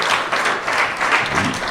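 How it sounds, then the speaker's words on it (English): Audience applause at a speech event, a short burst of dense, steady clapping from a crowd filling the moment without a voice over it. "Give yourselves a round of applause."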